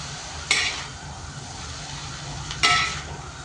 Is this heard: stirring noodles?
yes